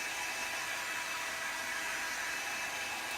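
A heat tool blows a steady, even whoosh of hot air to set embossing ink, a constant close hiss with no breaks.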